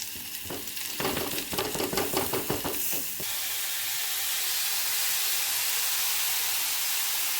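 Beetroot, onion and curry leaves sizzle in a hot pan, with a run of scraping stirs for about three seconds before the steady loud frying hiss carries on alone.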